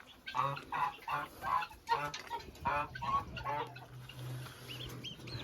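Geese and guinea fowl raise a noisy commotion in a farmyard, with repeated loud honking and shrill cackling calls in irregular bursts, some overlapping, close to the listener.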